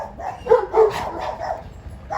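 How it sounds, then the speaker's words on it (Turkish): A large Kangal shepherd dog gives a few deep, gruff barks close by, irregularly spaced, over a low background rumble. "gerçekten çok güzel bir köpek"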